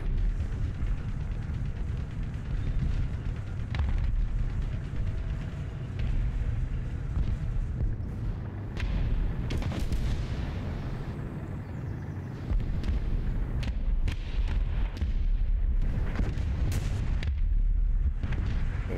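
Dense, continuous gunfire and heavy artillery-like booms from War Thunder combat, with sharp cracks and explosions layered over a constant low rumble, loud and busy throughout.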